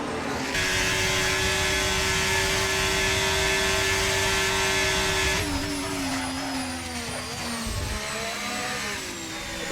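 Race cars, a Ferrari among them, scream around a circuit with loud sustained engine whine, and a second car's pitch sweeps and shifts as it passes close by in the later part.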